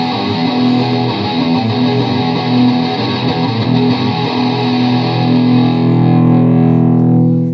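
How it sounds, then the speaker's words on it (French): An electric guitar played through a heavily saturated distortion effect, the kind used for loud rock, rings out as one sustained, thick, buzzing chord that holds loudly before cutting off near the end. "Maintenant avec un son saturé, avec une distorsion, assez utilisée pour le rock fort."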